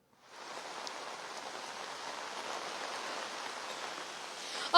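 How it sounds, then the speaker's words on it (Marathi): Steady heavy monsoon rain in Mumbai pours down as a dense, even hiss, constant throughout with no voices. "सकाळपासून जे आहे ते मुसळधार पाऊस सध्या मुंबईमध्ये सुरू झालेला आहे"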